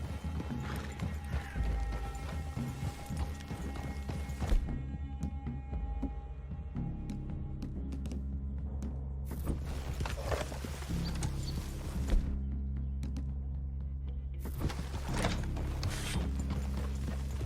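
Horse hooves clip-clopping in Red Dead Redemption II, a steady clatter of hoofbeats with mechanical hum and ambient noise underneath, fairly close and continuous throughout.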